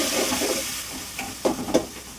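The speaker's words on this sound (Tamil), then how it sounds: "தக்காளி போட்டு நல்லா வசக்கணும் பார்த்துக்கோங்க." Tomatoes sautéing in a pan: a steady close sizzle with a few sharp scraping stir strokes toward the end, no voices.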